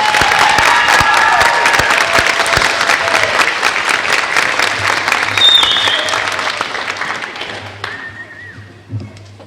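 Hearty applause for choir students at a high school spring choir concert, loud and dense at first, then thinning and fading out, with a few scattered claps near the end.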